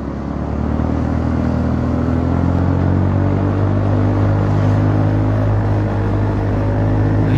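A Honda Forza 300 scooter with a freshly repacked fiberglass exhaust holds a steady, deep droning engine note, recorded close and sustained without a break.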